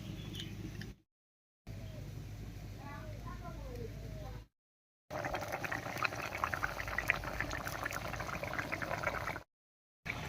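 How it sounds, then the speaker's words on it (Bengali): Fish and brinjal curry simmering at a boil in a pot, soft bubbling and burbling close by, broken by brief silent gaps and growing livelier toward the end. "বলক উঠে গেছে এবারে ভেজে রাখা মাছগুলো দেবে"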